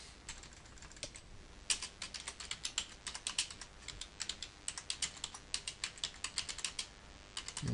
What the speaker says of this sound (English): So these detailed instructions can be typed in.